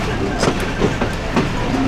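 The Rocket Mail train in Bangladesh rolls on its rails as it moves from the loop line onto the main line, a loud close rumble with rhythmic wheel clicks over rail joints and a voice speaking faintly underneath.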